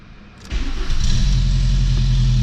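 A 1.8T turbocharged engine in a VW Golf 3 with an exhaust leak cranks briefly and catches, then settles into a loud, steady rumbling idle close by.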